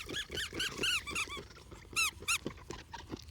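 Squeaky dog toy squeezed repeatedly, bright rubbery squeaks in quick bursts with pauses, close up, a dog nearby during play.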